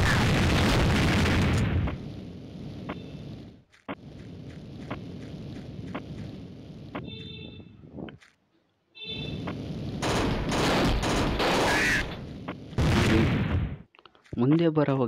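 Mini Militia mobile game gunfire and explosions, bursts of rapid shots and booms in several loud clusters separated by brief silences, with someone talking over the action.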